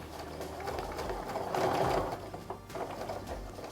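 A sewing machine stitches a quilt seam in a steady, close whirring run that swells briefly in the middle, with no talking over it.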